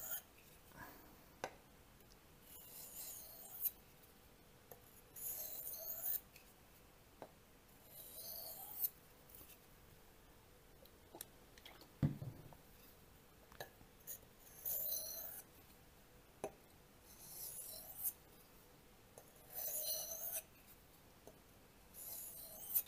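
A Proelia knife blade is deburred after sharpening with a series of soft, rhythmic scraping strokes repeated every second or two, quiet and close, with occasional light taps between them.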